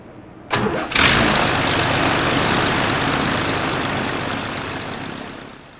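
A Pioneer 300 kit-built light aircraft's propeller engine cranks and catches, settling into a steady, loud, close running drone that continues throughout without voices.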